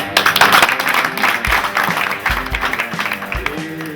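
An audience at a political debriefing meeting claps briefly in tribute to Jean-Luc Mélenchon, a loose burst of applause mixed with murmuring voices and a few low thumps.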